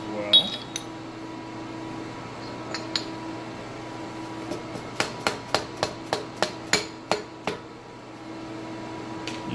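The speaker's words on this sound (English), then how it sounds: "And we're going to hammer that one into place as well." A hammer taps a piston stop into a Baski APV 3.5-2 pump housing, giving a string of about a dozen sharp metallic strikes in a quickening rhythm after a few scattered knocks, close and clear over a steady hum.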